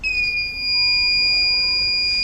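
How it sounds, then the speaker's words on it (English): A steady electronic buzzer tone from a smart helmet's drowsiness alarm sounds continuously, high-pitched and unbroken, with no voices over it. "When the drowsiness is not detected, then the buzzer gets off automatically."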